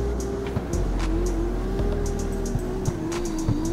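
BMW M4 G82 fitted with a 2J engine in the CarX Street racing game, holding a steady droning rev with slight pitch wobble, loud and close, with a few faint tire and impact noises over the engine.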